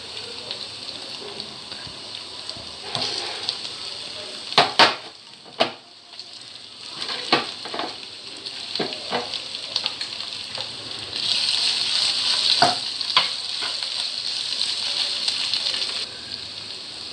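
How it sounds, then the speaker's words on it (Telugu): Mashed potato stuffing sizzles in a pan on the stove, a steady frying hiss broken by sharp scraping clicks from stirring, with a brighter burst of sizzle near the end. "ఇప్పుడు ఈ స్టఫ్ని ఒక 5 నిమిషాల పాటు ఉడికించుకుందాం."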